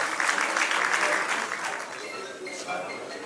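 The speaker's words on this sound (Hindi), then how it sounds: "जरा तालियां बजती रहे, अच्छा लगेगा।" An audience at a Hindi book launch event with a former president present claps steadily, a dense wash of applause that slowly fades, close and filling the hall without speech on top.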